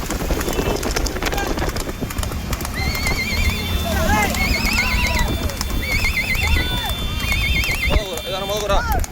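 Horses galloping in a race, with rapid thudding hooves and repeated loud neighs and whinnies over a dense, noisy outdoor background with crowd voices.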